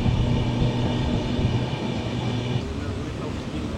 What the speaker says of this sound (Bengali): খোলা জানালা, আওয়াজটাকে পাচ্ছি ট্রেনের, সেই ঘটাং ঘটাং আওয়াজ